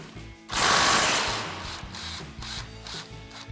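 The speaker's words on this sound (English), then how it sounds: "we're going to grab an 18mm swivel socket and we're going to remove our top bolt of our sway bar end link" An 18mm swivel socket on a ratchet loosens the top sway bar end link bolt on a Jeep Gladiator. A loud burst of mechanical whirring is followed by a few quick, close clicking ratchet strokes.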